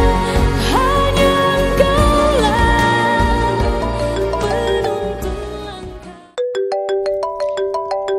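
A mobile phone ringtone signals an incoming call in an Indonesian TV drama, a bright repeating melodic tone that rises clearly after a stretch of louder background music and continues alone.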